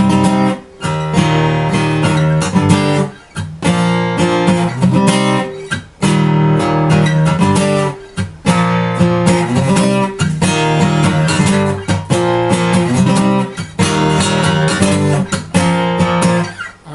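A Crafter acoustic guitar strums chords in a steady up-and-down rhythm with brief pauses between phrases, loud and close.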